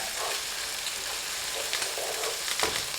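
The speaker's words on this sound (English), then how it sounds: "Now that I've got my garlic and onions and red peppers more or less sauteed and cooked up" Garlic, onions and red peppers sizzle steadily in a pan for a curry chicken meal, with a few soft scraping stirs rising near the end, close and continuous with no talking.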